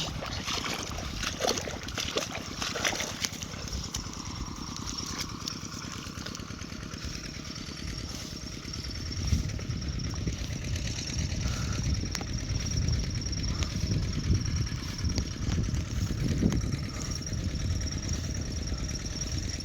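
A two-wheel walking tractor engine chugs steadily throughout while ploughing a rice field, a rough putter with a faint rhythmic clatter, swelling slightly louder partway through.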